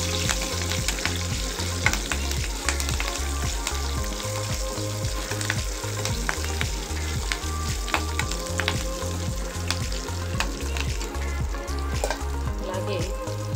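Curry leaves and dried red chillies fry in hot oil for a kandi pachadi, a loud, continuous crackling sizzle that spits and pops throughout with a steady low pulse underneath and no talking.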